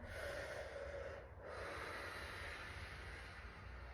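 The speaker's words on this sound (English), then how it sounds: "making sure you're doing your 3 breaths through your nose and 3 breaths through your mouth." Slow breaths drawn in through the nose and let out through the mouth, a soft airy hiss with a brief pause partway, close and quiet with no other sounds.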